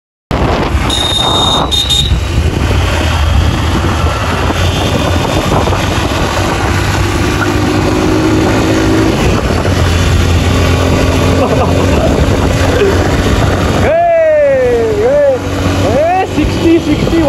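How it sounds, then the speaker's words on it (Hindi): A KTM Duke 200 and a Bajaj Pulsar 120 drag race in a village, with engine noise running loud and continuous throughout and a horn-like tone sounding near the end. "यहाँ पे तीनों बाइकें हो गई, हमारी ड्रैग रेस ख़त्म।"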